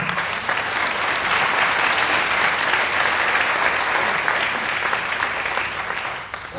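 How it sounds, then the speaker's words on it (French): Audience applause for a speaker at a recruitment talk: a steady, dense wash of many hands clapping at once, loud and sustained for several seconds before easing off at the very end. "Merci, on peut l'applaudir, je crois."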